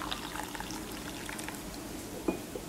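Saffron-flavored mussel broth pours gently into a container for seafood paella, a soft, continuous close trickle with a small clink near the end.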